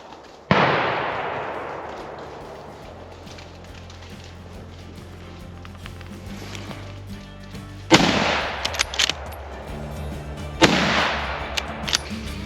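Three sharp gunshots ring out from a pistol fitted with an Aimpoint Acro C-2 red dot sight, each a loud, close crack followed by a long echoing decay, spaced several seconds apart.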